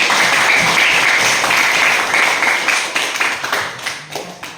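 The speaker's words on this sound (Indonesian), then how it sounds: "mari kita berikan aplaus dulu kepada semua" Students in a classroom applaud together after group discussion results are presented: dense, steady clapping that holds strong for a few seconds, then thins and tapers as the claps scatter and fade.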